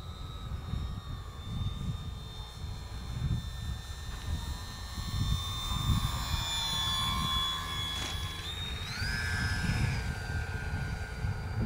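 A FliteTest Freedom Fox RC plane with flaperons flies overhead, its electric motor a steady whine that holds for several seconds and then rises sharply in pitch near the end, over constant outdoor wind rumble.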